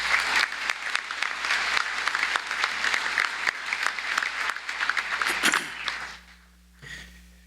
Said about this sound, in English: Can we get a round of applause to our new members?